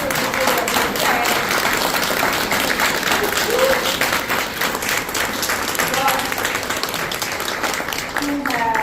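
Graduates at a Detroit graduation ceremony give a sustained ovation to family and friends, dense crowd clapping that holds steady throughout with a voice faintly audible beneath the applause.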